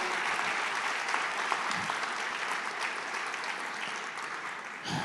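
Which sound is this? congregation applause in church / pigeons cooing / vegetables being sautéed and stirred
congregation applause in church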